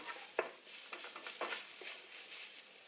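Food is stirred through in a pan, making a few soft, close scraping strokes over a faint, quiet simmer, with no talking.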